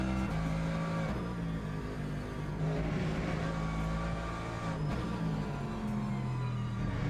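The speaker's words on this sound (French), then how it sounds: "Et la voiture commence à glisser un petit peu plus." Race car engine in the Le Mans Ultimate racing game droning steadily and loud throughout as the car starts to slide, with a sustained revving tone and faint tire noise and no talk.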